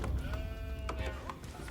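A sheep bleats in Age of Empires IV, a short wavering call with a quieter second bleat following, set against game ambience and soft background noise.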